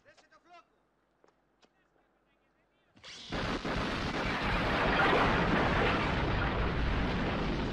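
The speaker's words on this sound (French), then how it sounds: "j'ai choisi l'explosion de l'entrepôt de Locke dans Rien que pour vos yeux" After a few faint sounds, the film warehouse explosion from James Bond's For Your Eyes Only erupts massively and becomes a loud, sustained rumbling roar that fills the rest of the clip.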